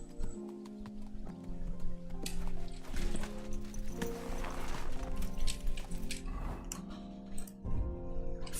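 Hooves of a horse in Kingdom Come: Deliverance II clop in a steady, moderately close rhythm beneath a layered musical score, with no one talking.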